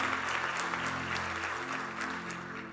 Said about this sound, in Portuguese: Você pode dar um aplauso a Ele?